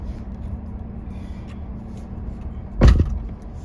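Someone gets back into a car: a single muffled thump of the car door closing near the end, over a low, steady background rumble.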